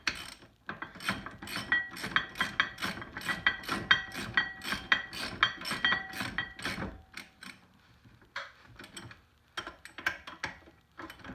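A ratchet wrench with a 21 mm socket tightens bolts on a C6 Corvette front brake, a close, fast run of clicking pawl strokes that slows into shorter bursts, with no talk.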